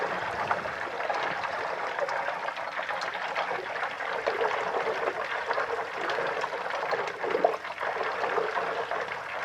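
Butter simmering in a pan while being cooked down into ghee, with a steady fine bubbling and sizzling hiss that carries on evenly throughout, close and moderately loud, with no talking.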